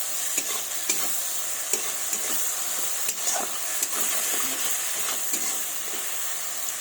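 Food fries in a pan with turmeric for a fish-head moong dal ghonto, a dense, even sizzle broken by regular scraping stirs, close and fairly loud.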